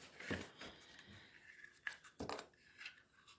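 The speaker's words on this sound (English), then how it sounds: "So we're just going to have to cut a new piece." Scissors cutting through a piece of card for a handmade greeting card, heard as a few short, crisp snips spaced across a quiet moment with no talking.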